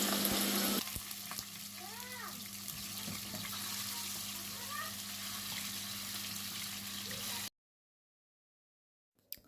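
Alexandrian-style liver hitting a very hot pan with oil and fat, a steady close sizzle and frying hiss that runs for several seconds, then cuts to silence.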